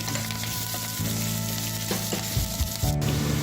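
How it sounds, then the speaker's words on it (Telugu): Chopped onion, green chili and curry leaves frying in two spoons of hot oil in a kadai for egg fried rice, a loud close sizzle with stirring scrapes and a brief rustle near the end; no talking. "ఇదే బాండీలో రెండు స్పూన్ల నూనె వేడయ్యాక ఉల్లిగడ్డ ముక్కలు పచ్చిమిర్చి ముక్కలు కరివేపాకు వేసి కలపాలి"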